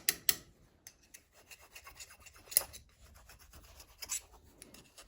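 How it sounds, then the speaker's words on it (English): A small file rasps over filler on a 1/4-scale John Deere 4020 model tractor in short, close strokes, with irregular bursts of scraping and brief pauses between passes. "then I'll get the smaller file"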